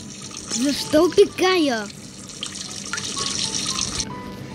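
In a cat simulator game, a cat pees with a running, trickling stream of liquid that carries on at an even level for a few seconds after a burst of speech.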